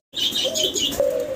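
Koka pigeons sound off close by, with fluttering of wings mixed into their chirpy, uneven calls, the sound steady throughout the short stretch.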